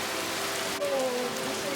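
Rain falling at the sea, a steady, even hiss of drops filling the short stretch at moderate loudness, with a faint tonal hum running underneath.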